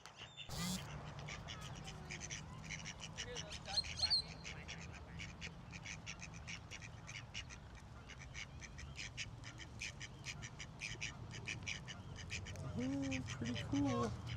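Geese and ducks honk and quack at Echo Park in Los Angeles, a busy chorus of rapid calls at moderate distance over outdoor background noise, louder toward the end.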